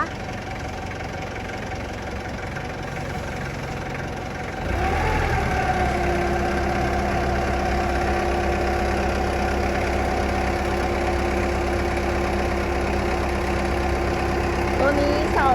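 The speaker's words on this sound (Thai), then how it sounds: "เป็นเครื่องยนต์ดีเซลนะ เดี๋ยวเราไปชมสาธิตกัน" A four-cylinder diesel engine on a TCM FD30T3 3-ton forklift starts and settles into a steady, loud, rumbling idle with a low throbbing knock, running continuously after a short quieter stretch.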